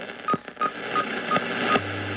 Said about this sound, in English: And there's 15 megacycle WWV.